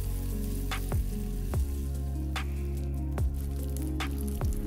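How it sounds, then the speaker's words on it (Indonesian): Five tablespoons of butter melting with sugar in a pan for caramel biscuits, giving a steady close sizzle with occasional scraping stir strokes and no talk. "Diaduk-aduk sampai butternya meleleh dan tercampur rata dengan gulanya."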